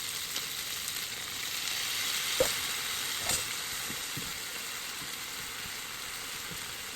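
Chicken wings browning in a pan with chopped garlic, a steady, fairly soft frying hiss with a couple of brief clinks or spatula touches, no talking.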